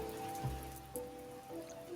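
Rain falls steadily on a surface, a quiet continuous patter of drops with occasional louder drips, faint and unbroken throughout.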